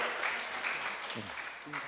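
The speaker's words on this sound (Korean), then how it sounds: "너무 환영의 박수 올려드리고" An audience at a Korean church summer retreat lecture claps in welcome for the elders who have arrived. The applause is brief and steady, and a voice speaks over it.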